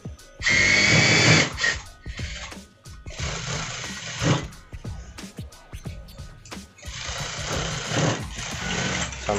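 A sewing machine stitching a jacket runs in three loud, steady buzzing bursts, close by, separated by quieter stretches of handling noise.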